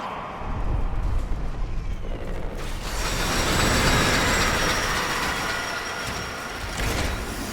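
A train pulls into a station in the video game Warframe, a loud continuous rumble of rolling wagons with metallic wheel squeal and clanking mechanisms, swelling as it arrives and holding steady to the end.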